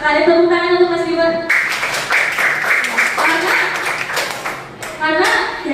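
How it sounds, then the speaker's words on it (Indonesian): A group of children claps together for a classmate in a classroom, a burst of scattered, lively applause lasting a few seconds, bracketed by an adult speaking. "Sekali tepuk tangan untuk Mas Bima"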